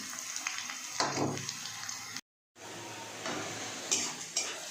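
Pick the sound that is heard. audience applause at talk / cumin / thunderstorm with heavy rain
cumin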